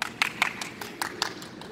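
A small group clapping for young gymnasts at an artistic gymnastics synchro-diving challenge: a handful of sharp, slightly uneven claps in quick rhythm, nearby and fairly light.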